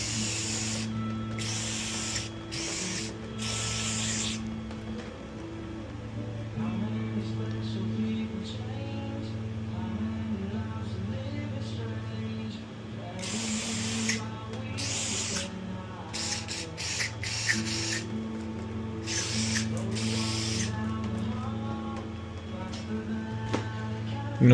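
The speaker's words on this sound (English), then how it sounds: "Got my sensor, got my cleaner. Just gonna spray it all over it." Several short, sharp bursts of aerosol cleaner spray onto a MAF sensor from a 3.0 Duramax truck, hissing close up in quick clusters separated by pauses, over a steady low hum.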